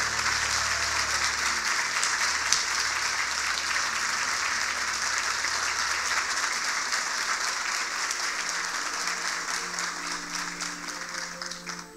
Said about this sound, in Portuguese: uma salva de palmas para o Saturnino